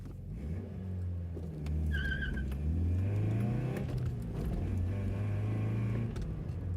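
A Toyota Celica, just fitted with a tightened oxygen sensor, pulls away from a stop, its engine rising steadily in pitch through acceleration and a gear change, heard from inside the car without talk.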